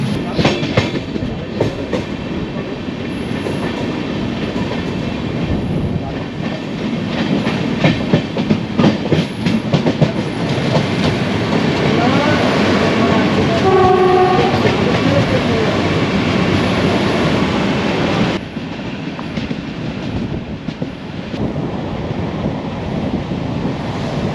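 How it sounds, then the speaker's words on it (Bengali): A Vande Bharat Express train bound for Gorakhpur rushes past on the rail line, a loud continuous roar with wind buffeting the microphone, steady for most of the stretch before easing slightly near the end. "এরপর আমরা ক্রস করব two two five five zero Gorakhpur Vande Bharat express"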